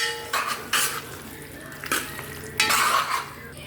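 A spoon clatters and scrapes in a pot of jackfruit aviyal after coconut oil goes in, a few distinct metallic knocks and stirs over a quiet background.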